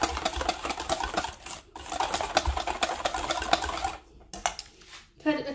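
Yogurt being mixed with the other ingredients for coconut harcha, with busy clinking and scraping of a utensil against a bowl, steady and close, then a few sparser knocks near the end.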